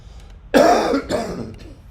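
One close, sharp cough with a short throaty follow-up, over faint background noise.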